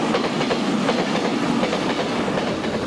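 A pair of Chinese QJ steam locomotives passes close by, loud and heavy, with a steady rumble and the rhythmic clickety-clack of wheels over rail joints.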